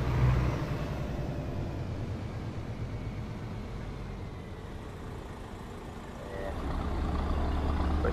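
A heavy truck with no retarder or engine brake drives along a highway, its low engine rumble and road roar steady and close throughout, swelling slightly louder toward the end.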